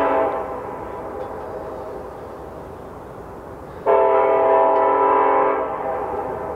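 A train rumbles steadily nearby in North Idaho, then its horn blasts loud and sustained for a couple of seconds before fading back to the rolling rumble.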